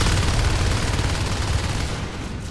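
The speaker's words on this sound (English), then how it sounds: "Rantology just spamming grenades into the hive" Grenades fired into an alien hive in the multiplayer shooter Natural Selection, a loud, dense, continuous barrage of explosions and gunfire that eases slightly toward the end.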